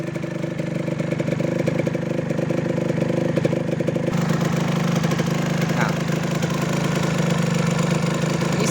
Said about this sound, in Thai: เป็นเสียงของแหวนลูกสูบนะครับ ดังนิดนึง